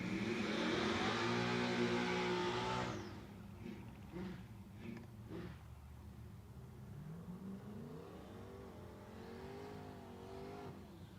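Blown A-body Dart drag race car at an unlimited-category big money shootout, a loud heavy engine roar for about three seconds that cuts off abruptly, followed by a quieter mix of distant engine revving and track ambience.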